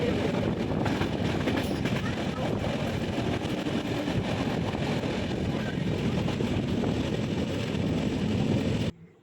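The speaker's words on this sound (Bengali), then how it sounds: "ট্রেনটা ভালো স্পিডেই যাচ্ছে" A train runs at good speed through heavy rain on the hilly Vizag to Araku route, with a loud, continuous rumbling clatter of wheels and carriages. It cuts off abruptly at the end.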